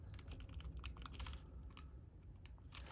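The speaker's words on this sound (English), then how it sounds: "we have a Joy-Con right now with all the buttons being nice and clicky" Quick, light clicks of a repaired Nintendo Switch Joy-Con's buttons pressed repeatedly close up, an irregular crisp tapping pattern with no voices.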